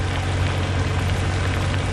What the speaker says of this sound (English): The rain falling at such a rate and with such intensity